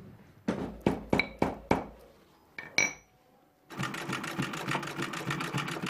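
A sewing machine stitches leather in a workshop. A few loud separate thunks come first, then a steady rapid mechanical chatter of stitching, close up with no voices.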